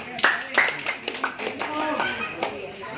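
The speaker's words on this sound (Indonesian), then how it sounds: "Ya, tepuk tangan." A small group claps by hand at a neighbourhood polling station in Makassar, with a few distinct, close claps and scattered taps mixed with voices talking in the background.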